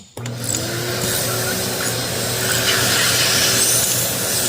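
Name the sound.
shop vac sucking oil out of a tractor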